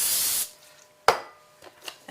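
A burst of olive oil spray hits plastic wrap, a steady hiss lasting under half a second, followed by a sharp crinkle and softer rustles of the wrap being handled nearby.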